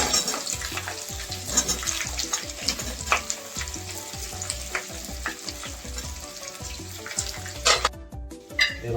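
Raw onions and potatoes hit hot oil spiced with cinnamon in a pan for fish head rice curry, a loud continuous sizzle and crackle broken by scraping stirs, with no talking.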